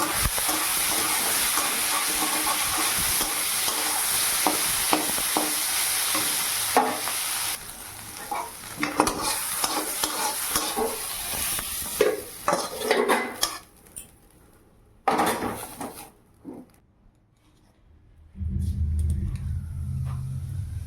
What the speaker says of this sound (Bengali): তো সয়াবিনটা এখন ভেজে নেব।